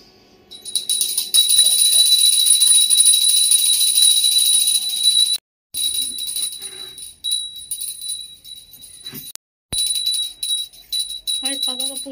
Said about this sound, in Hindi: बाबा घंटी भी बजाइएगा है ना।